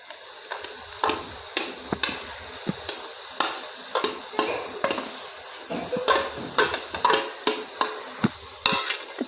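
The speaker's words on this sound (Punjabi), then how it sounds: "ਪਨੀਰ ਨੂੰ ਵੀ ਆਪਾਂ ਹੁਣ ਚੰਗੀ ਤਰ੍ਹਾਂ ਪਿਆਜ਼ ਦੇ ਵਿੱਚ ਮਿਕਸ ਕਰ ਦਾਂਗੇ" Grated paneer being stirred into fried onion and spice masala in a pan, a soft sizzle under repeated spatula scrapes and taps against the pan at an uneven rhythm, close and fairly quiet.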